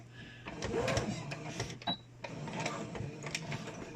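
Home sewing machine running a straight stitch on a homemade fabric mask, a rapid mechanical whirring in short bursts with a brief pause, close and moderately quiet.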